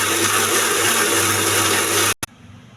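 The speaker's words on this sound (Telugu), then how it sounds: "ఇది కూడా మిక్సీ జార్లో వేసేసి మిక్సీ వేసుకోవాలి." A mixer grinder blends mint and tomato chutney with a loud, steady whir that runs for about two seconds and then abruptly cuts off, followed by a short restart and quiet.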